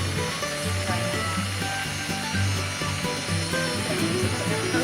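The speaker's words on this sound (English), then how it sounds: "take the sander wheel on the grinder and" An angle grinder with a sanding wheel grinds down a timber beam in timber frame construction, a steady, close whirring drone with slight rhythmic variation as it works the wood.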